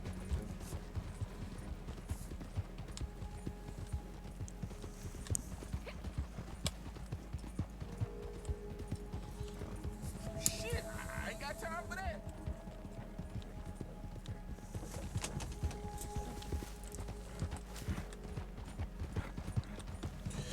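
A horse galloping in the online western video game Red Dead Online, with steady hoofbeats running continuously under a noisy game soundscape, while someone talks over it in French.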